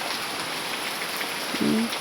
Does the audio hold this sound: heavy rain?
yes